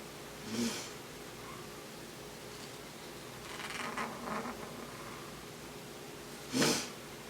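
Two sharp, close sniffles, one near the start and one near the end, with quiet shuffling and breathing in between.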